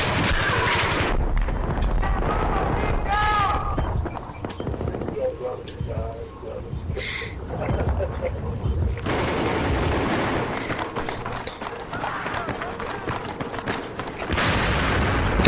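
Rapid bursts of ACW-R rifle fire in a close-quarters team deathmatch video game on the Scrap Metal map, with shots crackling almost continuously and brief pauses between strings of rounds.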